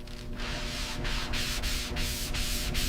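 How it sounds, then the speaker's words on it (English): Body filler on a Buick Skylark being sanded by hand, a dense scratchy rasp with rhythmic strokes repeating about every third of a second, close and steady with no talk. "Hours of sanding."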